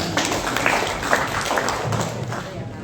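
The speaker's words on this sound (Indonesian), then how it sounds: "Tepuk tangan kok ragu-ragu." Scattered, hesitant applause from teachers and staff at a vocational high school curriculum meeting, uneven and fairly soft, with a voice talking over the clapping.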